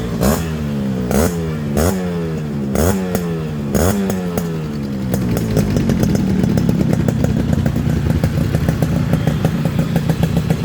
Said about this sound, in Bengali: অসাধারণ একটা সাউন্ড হয়েছে গাড়িতে